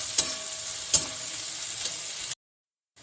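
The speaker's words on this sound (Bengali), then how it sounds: "এখন আমি দিয়ে দিচ্ছি এই যে পেঁয়াজ কুচানো দুটো মোটামুটি মাঝারি সাইজের পেঁয়াজ" Two medium onions, chopped, frying with garam masala in a pan, giving a steady close sizzle with a couple of sharp stirring clicks before the sound cuts out abruptly near the end.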